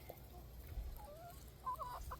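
Backyard chickens roaming on grass give soft, distant clucks and short warbling calls, faint against a low steady background hum.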